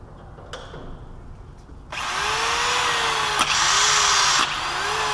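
A Bridgeport milling machine powered from a 110-volt supply starts up after a quiet moment, a loud steady motor whine with rising and falling pitch sweeps, running close.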